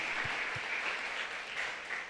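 Church congregation clapping in applause during a sermon, a brief, fairly faint wash of steady clapping heard from a distance with no talk over it.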